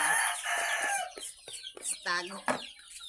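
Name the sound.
chickens and broodcock roosters clucking and crowing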